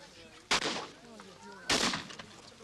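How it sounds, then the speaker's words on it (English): Two loud shotgun blasts, about a second apart, fired at airborne clay targets in an outdoor shooting competition, each sharp report trailing off, with a commentator's voice talking between them. "So both targets will be in the air at one time, and the shooters will shoot individually."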